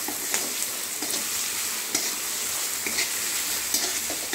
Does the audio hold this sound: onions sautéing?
yes